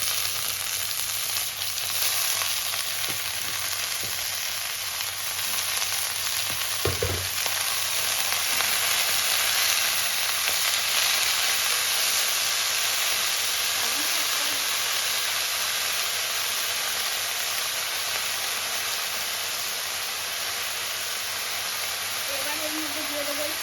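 Spinach frying in a pan with onion, garlic and green chilli gives a loud, continuous sizzling hiss throughout, with a brief clatter partway and steady steamy crackle, no talk heard.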